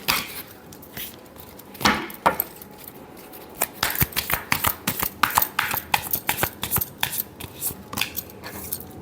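Tarot cards being shuffled for a final time, heard as a close series of quick papery snaps and flicks that grow denser toward the middle and then taper, with no speech.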